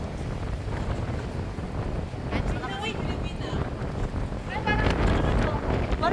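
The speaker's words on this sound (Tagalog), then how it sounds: "Malakas yung hangin." Gusty wind buffets the microphone at Kai Tak Sports Park in Hong Kong in a continuous rough roar that swells toward the end, with voices talking underneath.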